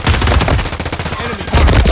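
Rapid automatic gunfire in the video game Warzone, loud and dense, in a continuous burst that softens briefly in the middle before surging again.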